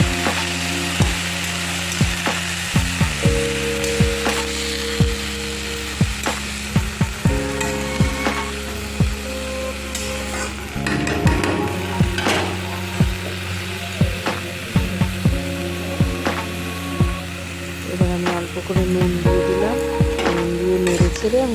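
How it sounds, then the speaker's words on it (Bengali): Bottle gourd leaves with green chilies fry in a pan with a steady sizzle, while a utensil stirs and scrapes with repeated sharp clicks close by. "আমি কেটে রাখা পাতলাও পাতাগুলো এবার দিয়ে দেবো ভালো করে নেড়ে চেড়ে"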